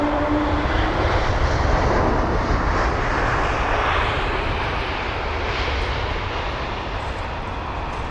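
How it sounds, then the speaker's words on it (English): A Lufthansa Airbus A320neo arriving from Frankfurt lands at London Heathrow, its engines giving a loud, continuous roar that eases slightly as the aircraft passes. "Our next arrival is going to be Lufthansa and they're a 320 Neo."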